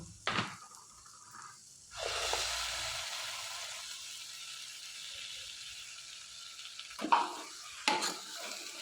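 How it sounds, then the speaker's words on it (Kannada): Ground masala with cabbage frying and being stirred in a pan, a steady soft sizzle with a few sharper scrapes and clatters of the spoon near the end; no one talks. "ಹಾಕಿ ಸ್ವಲ್ಪ ಚೆನ್ನಾಗಿ ಫ್ರೈ ಮಾಡಬೇಕು"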